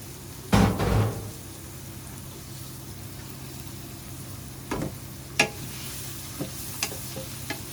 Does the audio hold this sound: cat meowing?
no